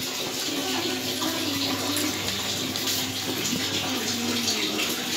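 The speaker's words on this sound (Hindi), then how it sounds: "देख लीजिए यहाँ पे धुल रहा है" Tap water runs steadily into a sink or basin as things are washed under it, a continuous close splashing rush with no pauses and no speech.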